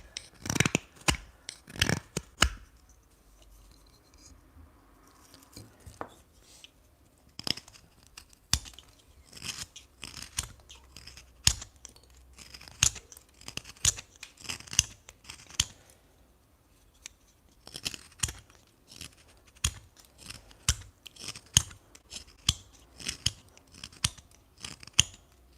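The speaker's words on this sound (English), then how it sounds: "This knife is good for this kind of cut" A knife carving olive wood, giving a steady run of crisp cutting and scraping strokes in uneven rhythm, close and clear with short pauses and no talking.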